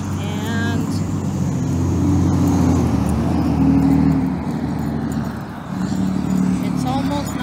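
Morning road traffic passing near a walker, cars rushing by in steady overlapping swells with a brief dip before building again, while someone talks over the noise.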